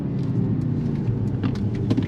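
Mercedes-AMG C63 S E sedan rolling into the throttle, a deep steady engine rumble heard from inside the car, close and continuous for a couple of seconds without speech.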